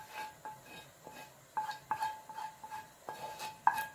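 Spicy kara chutney is served from a pan into a bowl, with a string of light metallic clinks and scrapes from a spoon against the vessels, close and fairly quiet, spaced irregularly over a few seconds.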